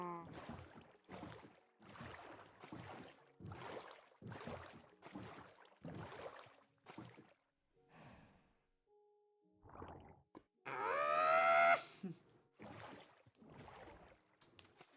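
Near the end, a cow in Minecraft lets out a drawn-out, rising moo. Before it comes a run of choppy bursts from a man, with scattered game sounds between them.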